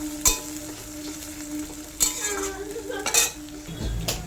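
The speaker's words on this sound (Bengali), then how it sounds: "আদা রসুনটাকে আমি পেঁয়াজের সাথে লাল লাল করে ভেজে নেব" A steady sizzle of ginger and garlic frying with onion in a pan, broken by a few sharp metallic clinks and scrapes of a utensil stirring.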